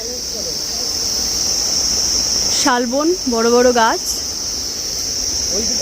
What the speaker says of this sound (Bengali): একদম ঝিঝি পোকার ডাক চারিদিকে